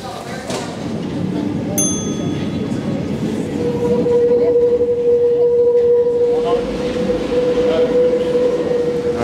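A Paris metro train rumbling near a station, with a steady low roar, a brief bright bell-like ding early on and a long sustained whine or horn tone through the second half, under light background voices.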